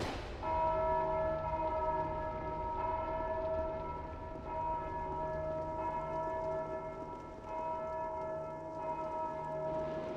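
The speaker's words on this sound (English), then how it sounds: "that bell is loud." A loud, sustained bell tolls in the video game Dark Souls 2, its rich ringing overtones hanging steadily and swelling again partway through, with no voices.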